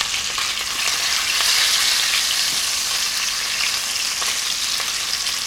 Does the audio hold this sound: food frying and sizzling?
yes